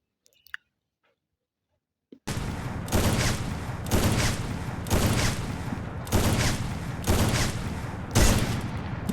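Sniper rifle fire in the Free Fire mobile game, a series of about six evenly spaced sharp shots with short decays, loud and close, after a near-silent opening.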